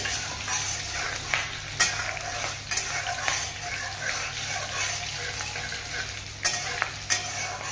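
A spice tempering with a pinch of asafoetida sizzles in hot oil for ghugni, a steady close hiss punctuated by several sharp scrapes and clinks of a spoon stirring the pan.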